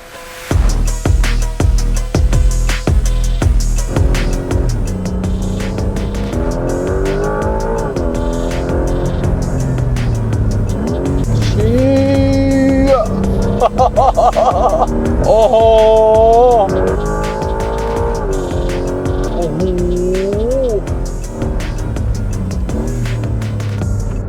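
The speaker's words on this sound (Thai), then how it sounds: "นี่คือ 911 Carrera GTS คันใหม่ล่าสุดนะฮะ" A Porsche 911 Carrera GTS hybrid (992.2) engine throbs and revs, its pitch rising and falling through gear changes, loud and close, with a steady rumble beneath.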